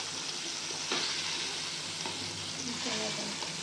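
Pieces of fish frying in a pan for a homemade fish sambar, with a steady close sizzle and a few soft scraping stirs and gentle turns of the spatula, no voices.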